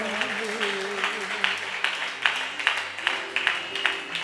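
Church congregation clapping hands in a steady, rhythmic beat, moderately close, under sustained tones that sound like music or singing.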